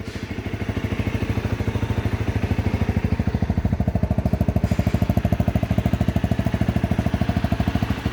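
A Honda motocross motorcycle engine runs close by with a loud, fast, even pulsing beat throughout, steady without any revving.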